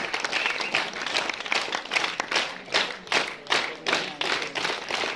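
An audience claps at an Independence Day ceremony at a government higher secondary school, with students being honoured with folders. The applause is steady and fairly close, in dense overlapping bursts that swell and dip throughout.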